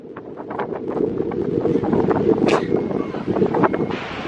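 Strong wind buffets the microphone at Manly, a rough, continuous roar with gusty bursts and faint rattling clicks throughout, loud and close.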